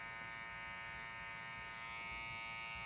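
Electric hair trimmer, modified from factory condition, cutting a boy's hair against the grain: a steady close-up buzzing drone that holds continuously throughout with no talking.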